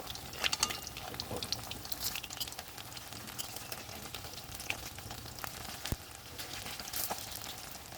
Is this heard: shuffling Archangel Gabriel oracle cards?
no